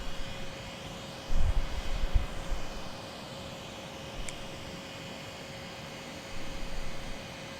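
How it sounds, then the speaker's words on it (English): At an air show in Australia, the lead aircraft's engines spool up as a steady distant whine and broadband roar, with a low hum and a few brief rumbling bumps. "flight lead is now spooling"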